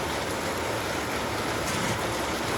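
Heavy rain pours down on a farm with cotton and groundnut fields, a dense steady hiss of water filling the whole clip with no voices.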